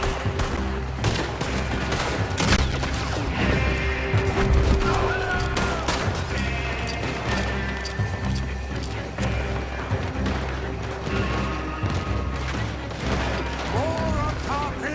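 A Red Dead Redemption 2 shootout near an oil wagon, with dense repeated gunshots and bursts of fire over game music and ambience throughout.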